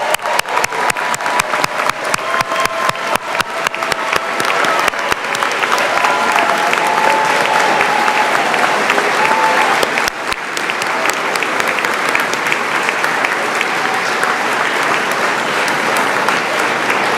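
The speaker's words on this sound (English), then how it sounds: "That was a wonderful round of applause for our" Sustained, loud applause from a large audience at a 2022 college graduation ceremony, steady and dense for the whole stretch with a brief dip near the middle, some cheering mixed in.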